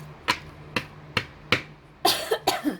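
Someone near the mic coughs about seven times in sharp bursts, evenly spaced at first, then quicker and rougher near the end.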